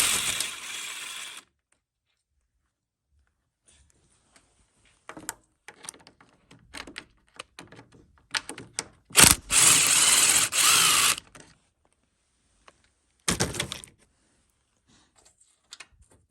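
Ratchet working a 10 mm bolt on a Chevy LTZ Suburban wheel cover, heard as scattered bursts of clicking and short loud clattering spells separated by quiet gaps.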